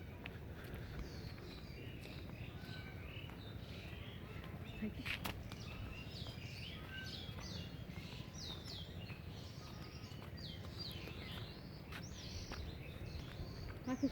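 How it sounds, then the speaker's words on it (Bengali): Birds chirp and call faintly in a village over a low steady rumble of outdoor background noise, with a few scattered knocks and no clear talk. "পাখির শব্দ"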